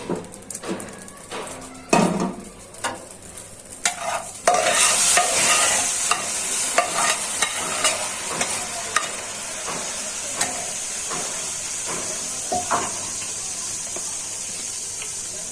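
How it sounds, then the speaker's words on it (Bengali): Onions frying in a pan for a fish curry, a steady loud hiss of oil with stirring clatters and spatula taps scattered throughout, with no talk. "পেঁয়াজ দিয়ে দিচ্ছি, পেঁয়াজটা ভাজা হয়ে যায়।"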